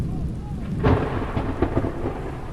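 Thunder from a lightning strike in Florida near a boat ramp: a sudden loud crack rolling into low rumbling under steady rain, close by, with no talking.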